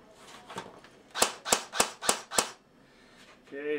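Five evenly spaced sharp shots from a Matrix airsoft pulse rifle fired semi-automatically, close and distinct, with brief quieter noise before and after.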